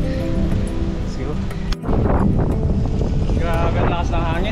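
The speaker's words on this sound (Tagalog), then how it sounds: "Grabe ang lakas ng hangin." Strong wind buffets the microphone during a mountain bike ride near the summit of Malico on the Kayapa to Sta. Maria route, a loud continuous roar with a brief dip midway and voices talking over it.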